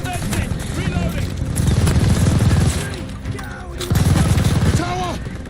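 Heavy machine gun fire in Call of Duty Vanguard rattles in dense bursts from a tower emplacement, loud and close, mixed with battle noise and shouting soldiers.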